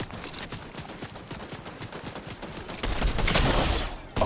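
Rapid gunfire in a Fortnite match: dense bursts of shots crackle steadily, then a louder, closer barrage erupts near the end, with no voices over it.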